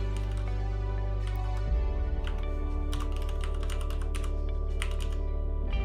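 Rapid keystrokes clatter on a computer keyboard in irregular bursts, close and clear over a steady low electrical hum.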